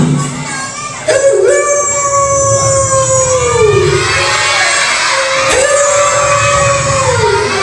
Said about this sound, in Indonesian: Serigala